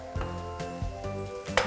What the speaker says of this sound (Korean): 파를 볶아주는 소리가 나는데요.